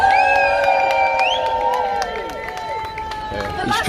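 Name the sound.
protest crowd cheering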